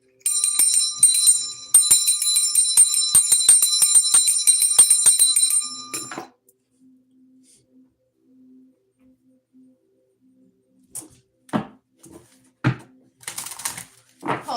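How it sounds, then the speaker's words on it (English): A bell rings bright and sustained for about six seconds, then fades into near silence with a few scattered soft knocks and clicks. "I'm going to ring the bell right now at this time to cleanse the atmosphere."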